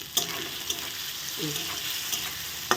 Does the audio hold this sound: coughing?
no